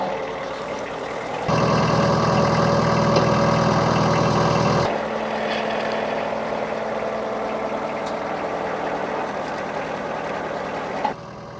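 A tractor engine runs close by while its loader boom is raised and jerked around, revving into a loud, heavy roar for about three seconds, then settling back to a steady rumbling idle with faint clanks.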